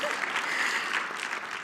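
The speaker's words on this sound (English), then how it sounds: "thank you for clapping for doubting myself." An audience at an afternoon conference plenary applauds, a dense, steady wash of many hands clapping at a fairly distant level that holds throughout.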